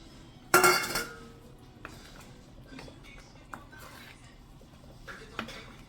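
Paneer cubes dropped into a pan of butter masala with the gas off, making one sharp metallic clatter followed by a few faint clinks of a spoon against the pan in a quiet kitchen.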